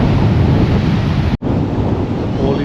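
Sea waves at Harlyn Bay beach in Cornwall, a steady loud wash of surf with heavy wind buffeting the microphone and a brief dropout near the middle.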